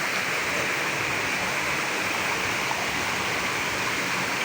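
Clear spring water flows out from a source on a mountainside in Bicol, a loud, steady rushing wash that holds constant throughout with no voices.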